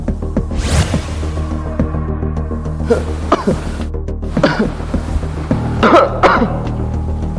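Repeated harsh coughing and throat clearing, close to the microphone, in several rough bursts over a steady low background hum.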